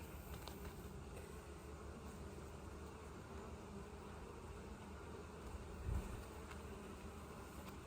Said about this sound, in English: The bees are being very docile today.